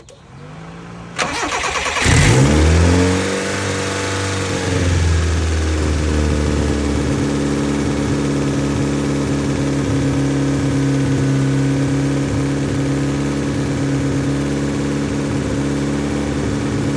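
A Honda Civic hatchback engine cranks and starts right after a spark plug swap, then settles into a loud, steady close-up idle and rev that runs on without a break.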